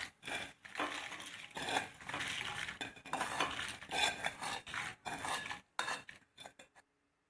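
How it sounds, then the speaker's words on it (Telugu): A spoon scrapes and stirs salt through dry roasted spice powder and urad dal in a pan, a run of close, gritty rasping strokes with brief pauses that ends abruptly. "ఇప్పుడు ఉప్పు వేసి ఒక్కసారి కలపాలి"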